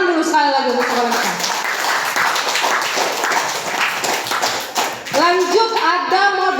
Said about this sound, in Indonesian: Tepuk tangan dulu sekali lagi untuk sekolah kita.